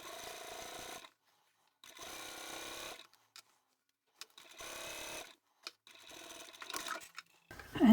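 A sewing machine stitches the closing seam of a double boxed bag in four short runs of steady, close whirring with pauses between, plus small handling clicks and rustles.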